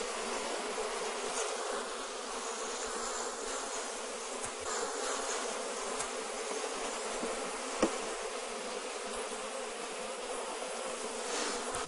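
Honey bees buzzing loudly around an open hive, a dense continuous hum from many nervous, flying insects, steady throughout with no voices.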